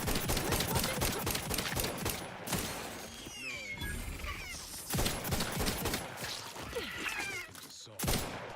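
Rapid bursts of automatic gunfire rattle in the Outer Worlds 2 video game, loud and dense, pausing briefly between volleys amid other game sounds and a short spoken voice.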